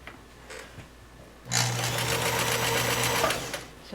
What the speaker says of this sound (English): I like to do the continuous sewing from one square to the other